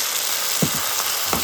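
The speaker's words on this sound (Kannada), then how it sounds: "ಲೈಟಾಗಿ ಸೌತೆ ಮಾಡಿದ್ರೆ ಸಾಕು. Onion light brown ಆಗಿರ್ಬಾರ್ದು." Onions sauté lightly in a pan with a steady, close sizzle throughout, broken by a couple of soft stirring scrapes.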